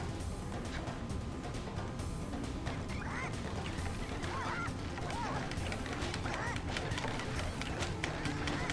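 Chickens squawking and clucking in the Sly Cooper video game's chicken-whacking minigame, faint scattered calls over a constant noisy game background with busy running and hitting sounds, no one talking.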